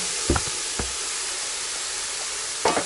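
Kale tossed into a hot pan over a village cooking fire in Kenya, giving a steady loud hiss of frying broken by a few scraping stirs near the start and end.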